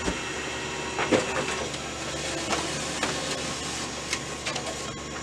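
A Canon ImageClass MF244 laser printer runs its startup initialization cycle, a steady mechanical whir with faint clicks and soft clunks, heard close and alone.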